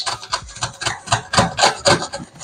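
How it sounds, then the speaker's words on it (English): A lemon or orange rubbed against a grater to remove the zest, giving a rhythmic series of dry rasping strokes, about ten in quick succession, close and fairly loud, with no voices. "That's how you zest a lemon or an orange."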